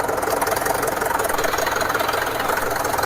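A tractor engine with a worn, broken cage-wheel middle ring runs steadily after being driven through a pond washout, a continuous close, loud knocking chug with no voices.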